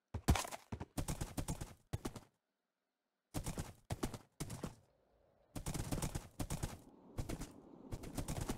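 Horse hooves clip-clopping during a ride in the Minecraft Middle-earth video game, delivered in clustered bursts of rapid, sharp knocks broken by short silent gaps, fairly close and without talk.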